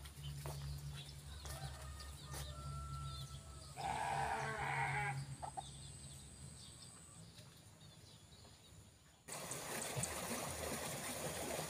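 Sheep bleat intermittently in a cool rural village, the calls moderately close against a background of flowing water and soft ambient noise, with a louder burst of noise near the end.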